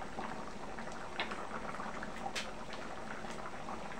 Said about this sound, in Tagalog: Ayan, kumukulo na po ang munggo ko.